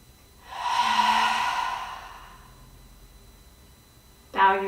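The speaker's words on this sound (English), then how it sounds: "We'll seal everything in with one cleansing breath here." A long, audible cleansing exhale through the mouth closes a standing yoga flow, a breathy rush that swells and slowly fades, followed by a brief voiced sound at the end.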